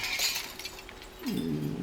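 A glass window shatters in the Counter-Strike 2 map Militia: a bright tinkling break at the start, fading clinks of shards, then a lower scraping crunch near the end, with no talk.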